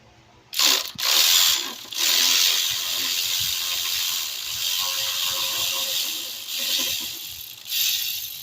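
A 10mm ratchet clicks in quick bursts while removing alternator bolts on a 1997–2004 Ford F-150 with a 4.6L Triton engine, the pawl's rapid ticking broken by short pauses and handling noise, close and loud, with no talking.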